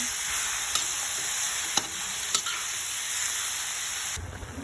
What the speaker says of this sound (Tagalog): Lagay na natin ang ating pork. Haluin.